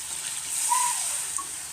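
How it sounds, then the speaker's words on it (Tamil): Water pours steadily into a cooking pan of cauliflower masala, a soft continuous gushing with a slight rise in the middle, heard alone without talking. "இப்போ கொஞ்சமாக தண்ணி சேர்த்துக்கலாம்."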